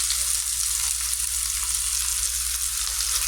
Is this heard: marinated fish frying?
yes